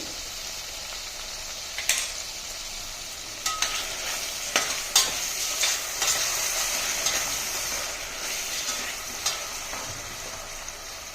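Tempering with a pinch of asafoetida sizzles steadily in a pan for a pindi charu, a tamarind-flour soup. Scattered sharp clacks and scrapes from a stirring spoon sound over the hiss.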